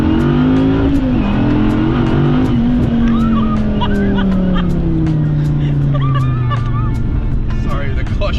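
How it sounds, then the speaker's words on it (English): A 1,000-horsepower Dodge Viper ACR Extreme revs loudly as the clutch slips, its engine note rising and falling close by under the babble of excited voices inside the car. "The clutch just kind of popped out there and my foot just hit the gas pedal."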